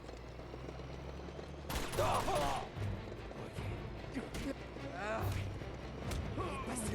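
Shotgun gunfire in the Uncharted 2 video game: a heavy blast followed by scattered impacts, crashes and mechanical clatter in a chaotic firefight, with someone talking over it.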